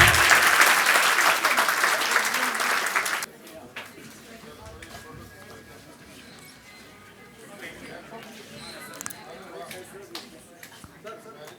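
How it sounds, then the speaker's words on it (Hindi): Loud crowd clapping at an award distribution ceremony for a club in Madhya Pradesh, lasting about three seconds before cutting off into quieter room murmur and talk. "जोरदार तालियां"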